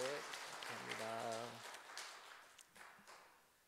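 Church congregation applauding during a Sunday morning worship service, a broad wash of clapping that swells and fades over a few seconds, with a sustained tone and voices underneath at the start.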